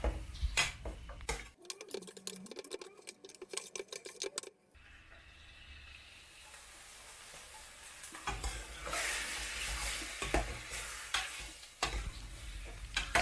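Pork bones are stir-fried with curry paste in a pan for a Thai Isan pork bone curry, with scraping stirring strokes and clattering over a steady sizzle, the sizzle swelling loudly in the second half.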